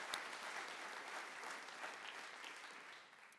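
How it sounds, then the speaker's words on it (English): Audience applause for an award recipient at a closing plenary of an international meeting, a dense, even round of clapping heard from a distance and fairly faint, tapering off at the end. "So if we can give him a round of applause."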